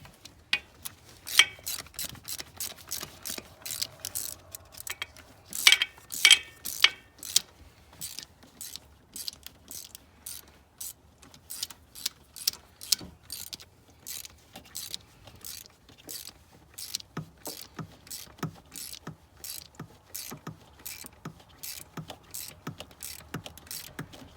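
A ratchet with a 15 mm deep-well socket turns bolts while a lift pump relay harness goes onto a GM 6.5L diesel. Rapid, close clicking comes in bursts of quick ticks separated by brief pauses.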